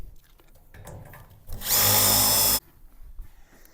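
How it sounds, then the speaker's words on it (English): A power drill drives a screw into the bottom of a Colorbond gate in one loud, steady burst of about a second. Quieter workshop handling noises come before and after. "I'm going to get one of these screws. I'm going to screw that in the bottom."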